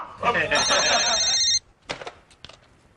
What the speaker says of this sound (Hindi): अरे अभी मैंने सुना फोन की घंटी बज रही थी।